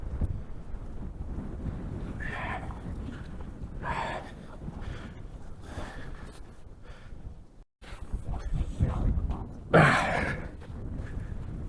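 Winter wind gusting across a rural farmstead on New Year's Eve, a steady rushing roar buffeting the microphone with rising and falling gusts, broken by a brief dropout and a louder blast near the end.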